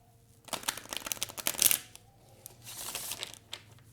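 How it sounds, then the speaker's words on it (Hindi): Close, crisp riffling of a tarot deck being shuffled, a rapid run of flicking card snaps that peaks in a dense burst, pauses briefly, then resumes more softly, with no talk over it. "one last shuffle"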